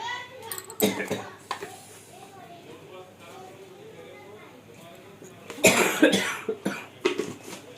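A child coughs in short bursts after eating spicy fish curry, once early and again in a louder cluster later, with people talking quietly between the coughs.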